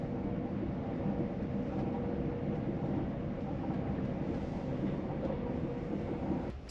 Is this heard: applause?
no